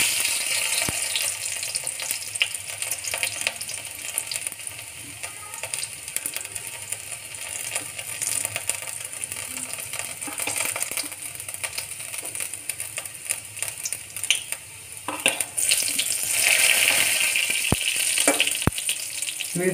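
Garlic sizzles and crackles in hot oil as a tempering, a constant frying hiss with occasional sharp clicks and stirring noises, growing brighter toward the end.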